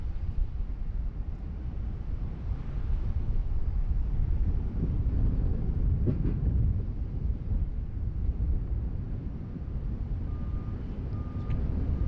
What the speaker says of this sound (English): Look at this heavy departure, the Rex Saab